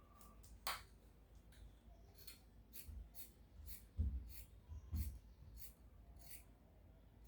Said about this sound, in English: So I'm going to go ahead and cut this out now.